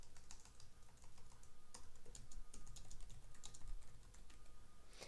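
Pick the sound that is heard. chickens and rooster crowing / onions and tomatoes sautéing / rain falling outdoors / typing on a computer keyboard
typing on a computer keyboard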